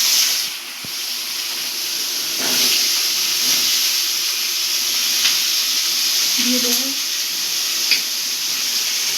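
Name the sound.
potatoes and onions sizzling in oil with nigella seeds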